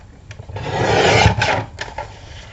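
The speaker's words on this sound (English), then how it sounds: "I picked up my little trimmer, and I'm going to actually trim it off" A small paper trimmer slicing through craft paper, giving a rasping, scraping swipe that builds and fades over a couple of seconds, followed by a few softer scrapes.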